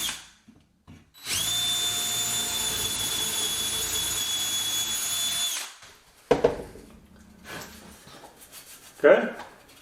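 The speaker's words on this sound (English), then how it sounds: "So I'm going to try to drill this one" A power drill bores through a wooden corner side support of a mudroom bench, whirring loudly and steadily for about four seconds, close to the listener. After the drill stops, short bursts of voices and handling noises follow.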